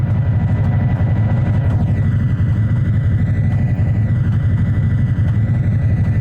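A diesel locomotive engine in Trainz Railroad Simulator 2019 runs loud and steady, a deep rumbling throb with higher tonal whines gliding above it, continuous and close with no talking.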